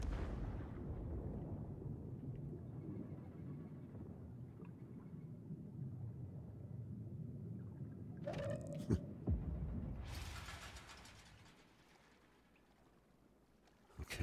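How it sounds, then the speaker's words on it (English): Hostile mortar strike in a video game: a deep, sustained rumble of distant blasts with a couple of sharp crashes near the end before it fades away. "Hostile mortar strike in the area."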